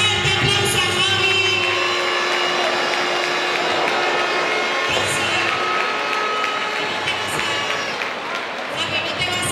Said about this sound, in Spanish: Vamos a dar un fuerte aplauso a Javi.